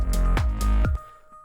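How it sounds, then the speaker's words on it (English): A reversed piano intro bounced to audio for an electronic track in Logic Pro, with a few swelling notes that rise and cut off abruptly over a deep low tone, then fade out quietly. "I started reversing this intro piano"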